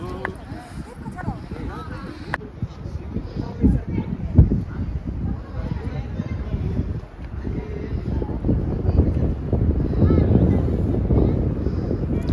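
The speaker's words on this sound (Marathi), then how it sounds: "खूप थंड वारा पसरला, एकदम मस्त वाटतंय" Steady cold wind gusts buffet the microphone in a low rumbling roar at Avalanche Lake near Ooty, with voices and crowd noise underneath throughout.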